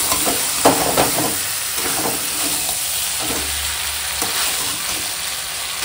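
Goat meat sizzling and frying in a hot wok, with tomato and onion, a loud, close, continuous crackling sizzle punctuated by a few stirring scrapes and clatters, no talking.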